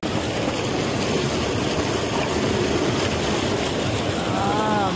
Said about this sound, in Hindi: इसे जहाँ ट्यूबवेल चल रहा है ट्यूबवेल से ना ठंडा पानी जो है ना वो मज़ेदार पीते हैं।